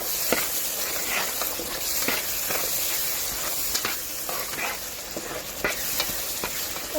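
Chili powder and spices for a soya chunk curry frying and being stirred in a pan, a steady sizzling hiss with regular scraping spoon strokes throughout and no talking.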